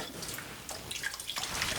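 Water trickles and drips from freshly rinsed brown rice as it drains, a close, steady splashing patter that keeps running for a couple of seconds.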